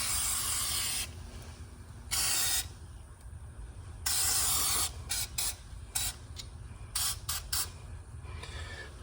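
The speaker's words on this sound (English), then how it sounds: "I have this red point nozzle on there, so I'm going to just hit the metal" A pressure washer with a red point nozzle blasts the metal deck of a Honda lawn mower, harsh hissing spray in on-off bursts of varying length, close and loud over a low pump drone.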